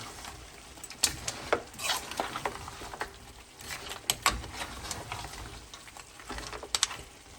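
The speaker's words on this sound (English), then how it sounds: "So we'll give that a really good mix" A spoon stirs Fiji-style lamb shank palau with jasmine rice in a single pot, giving repeated scraping and clinking against the bottom and sides over a soft steady cooking hiss.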